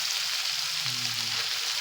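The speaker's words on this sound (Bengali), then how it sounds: "চিংড়ি ভাজা চলছে" Prawns frying in a pan for a Bengali home lunch, a steady close hiss of sizzling oil throughout with no voices.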